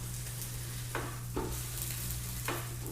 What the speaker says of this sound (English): We're still getting quite a bit of sizzle when I do that.